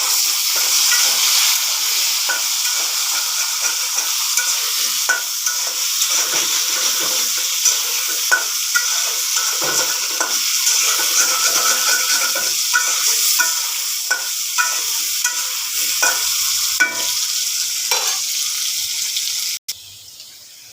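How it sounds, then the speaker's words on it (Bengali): Potatoes frying in oil in a pan, a loud continuous sizzle with frequent scraping stirs, close and steady without talk until it cuts off near the end. "দেখো মাছ ভেজে রাখলাম এখন আলুগুলো ভাজবো"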